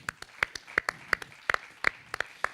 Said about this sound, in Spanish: Un aplauso, lo tenemos aquí delante.